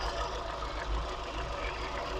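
A Dacia 1300 car engine idling with a steady low rumble, even and continuous, heard close.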